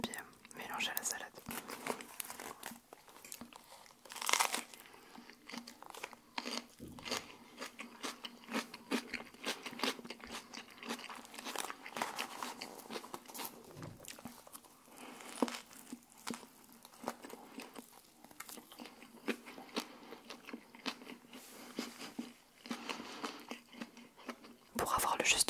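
Crunchy bites and chewing of a McDonald's wasabi burger with salad, recorded close up for ASMR, with soft crackles and crinkling running throughout under a quiet whispering voice.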